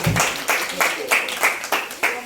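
Young children in a classroom clap together in a steady run of sharp hand claps, loud and close, during a memory card matching game.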